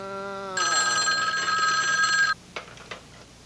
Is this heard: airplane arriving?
no